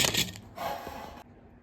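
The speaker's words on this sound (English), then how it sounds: "So enjoy some ASMR as I unwrap my biscuit." A butter biscuit wrapper crinkles and crackles in short, close bursts as someone struggles to tear it open, with a brief sharp rustle followed by quieter handling.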